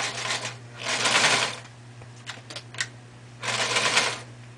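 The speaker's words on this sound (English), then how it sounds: "Now here we go again with the sewing machine." A sewing machine with a faulty reverse runs in two bursts of fast stitching, separated by a short pause with a few clicks, against a steady low hum.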